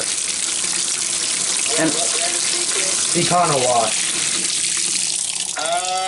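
An LG WT7400 washing machine fills with water, a steady rushing spray that runs the whole time while voices talk over it.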